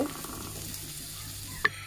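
Potatoes and flat beans frying in oil give a steady, quiet sizzle, with one brief clink of stirring near the end.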